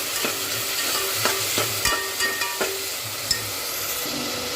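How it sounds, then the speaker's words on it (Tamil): Ground spinach sautéing in a pan for a spinach pasta dish, a steady sizzle broken by repeated scraping clicks of a stirring spoon against the pan, close and fairly quiet. "இப்போ இதில் நம்ம அரைச்சி வச்சுருக்கிற பாலக்கீரையை சேர்த்துக்கலாம்"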